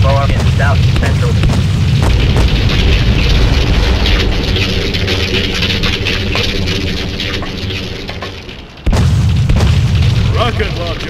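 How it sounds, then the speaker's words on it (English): A rocket launcher explosion in the GTA2 multiplayer arena gives a heavy, rumbling boom that rolls on and slowly fades before cutting to a fresh blast, with voices talking over the din. "Rocket launcher."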